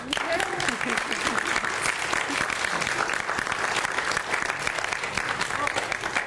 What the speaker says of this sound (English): First, let's just clap.